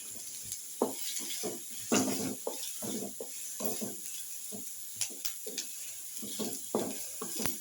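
Onions frying in a pan over a gas flame, with a steady sizzle broken by repeated scraping and stirring knocks from a utensil against the pan, close and moderately loud, with no voices.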